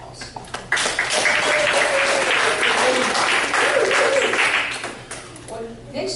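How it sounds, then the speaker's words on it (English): An audience at a Florida political campaign event breaks into loud, sustained applause that swells quickly, holds as a dense roar of clapping, then tapers off near the end. "give yourself a round of applause."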